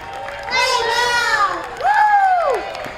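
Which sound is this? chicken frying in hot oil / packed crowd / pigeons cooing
packed crowd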